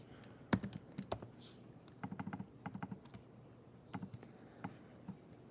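Computer keyboard typing with quiet, irregular key clicks in short bursts and scattered single taps, close by, during graphic design work on an email layout. No talking.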